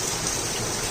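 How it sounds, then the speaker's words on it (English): Steady early-morning rain hisses in a dense, even wash, close and continuous, with no voices over it. "20 minutes later, the rain started."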